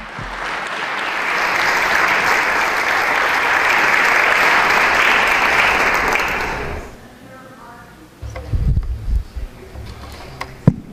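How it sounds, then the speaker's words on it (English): Loud, dense applause for a retiree fills a meeting room for several seconds and then cuts off, followed by quieter voices and a few soft thumps. "I just think you deserve a big round of applause for those hot dogs."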